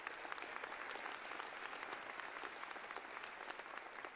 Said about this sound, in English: let's have a round of applause for all those students who shared their stories with us